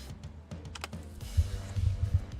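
Clicky keys on a Corsair keyboard clatter in an uneven burst of quick taps, close and fairly soft, with no voices over them.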